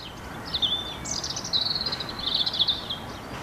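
Sparrows chirping from a noisy colony in dense bushes, a few thin high twittering calls repeating in short bursts over a soft background hiss.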